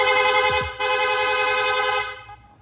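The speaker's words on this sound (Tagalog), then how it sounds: "Pwede nating i-rapid horn, no?" A loud, sustained aftermarket PIAA horn on a Yamaha Sniper 155 motorcycle blares continuously for about two seconds, then cuts off, leaving a faint engine rumble underneath.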